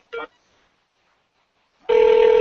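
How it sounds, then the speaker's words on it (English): A short electronic blip, a pause of silence, then a telephone begins ringing loudly with a bright, steady electronic trill. "can you hear my phone ringing there?"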